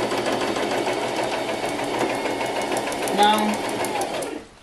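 A sewing machine stitches a ribbon-trimmed tutu in one loud, close, continuous run that stops near the end, with a person speaking briefly over it.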